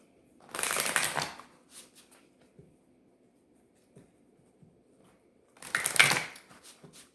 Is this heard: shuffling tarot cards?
yes